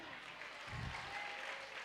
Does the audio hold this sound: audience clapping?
yes